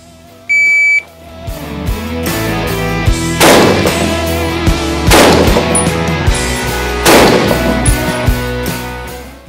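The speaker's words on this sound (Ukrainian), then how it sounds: "Отже, три постріли та" Three loud, sharp gunshots from a carbine ring out about a second and a half apart on a shooting course, each with a ringing tail, after a short electronic beep at the start.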